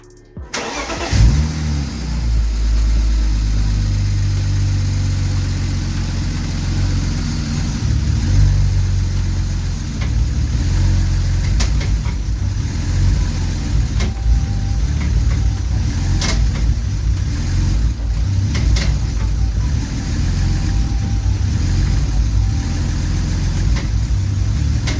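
A drift car engine after a DISA install cranks and fires up, then settles into a loud, steady rough idle with a low rumble and faint mechanical ticking, with no talking.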